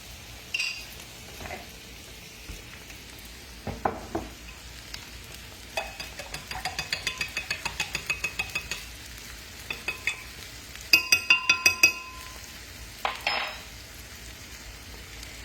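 Onions for tomato gravy cooking in a pan with a low steady sizzle, punctuated by quick rhythmic scraping and clinking strokes of a utensil stirring against the pan, close and fairly quiet, without talk.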